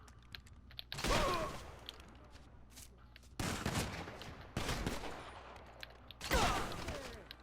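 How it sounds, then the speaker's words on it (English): Musket gunshots in the video game GTA Online, several loud separate blasts spaced a second or more apart, each with a decaying rumble, over faint background game sound. "I took him out with a musket."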